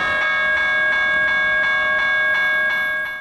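Unadjusted General Signals Type 1 electronic bells at the Kensington railway level crossing ring loud and fuzzy with an odd pitch, striking in a steady, rapid repeating rhythm with bright sustained tones and no talking.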